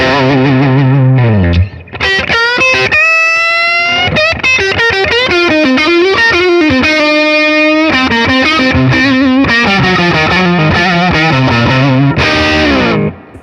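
A Fender Stratocaster HSS electric guitar with a Shawbucker humbucking pickup, played loud through distortion and chorus effects in fast, melodic lead runs with sustained notes, alone and close.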